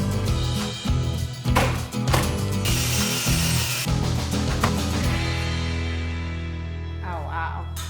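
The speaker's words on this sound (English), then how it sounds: "clamping the beam so that the outer sides squeeze in so he can meet the miter joint at the bottom" Ratchet clamp tightening across a wooden beam to squeeze a miter joint closed during a home renovation, rapid clicking ratchet strokes in bursts, then a fading ring.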